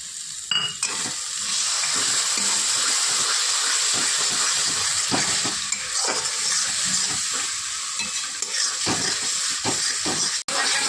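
Spice masala frying with cashew paste in a pan for Bengali katla kalia, a steady close hiss and sizzle with intermittent stirring scrapes and no talking.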